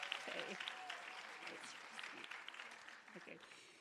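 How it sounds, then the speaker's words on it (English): Applause for award recipients at a graduate and undergraduate nursing ceremony, a moderate, somewhat distant clapping that gradually fades, with voices talking over it. "Let's give them another round of applause."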